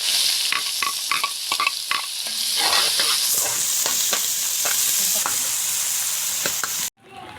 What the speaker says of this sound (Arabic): وهنحمر البصل ونرجع لكم تاني.